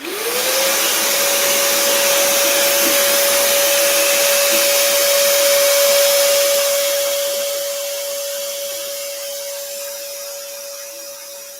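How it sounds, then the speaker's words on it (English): A loud vacuum cleaner whirs up and runs steadily with a high motor whine, easing slightly toward the end. "Ed's going to turn on the vacuum. It's going to be very loud."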